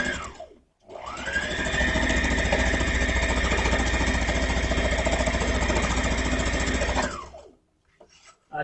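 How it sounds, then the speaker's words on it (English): A sewing machine stitches the waistband of an elastic waist skirt, running in one steady, loud whirring burst for about six seconds with a fast mechanical rhythm, starting and stopping abruptly. "I just bring my guide and I put it to where I want my skirt to sew."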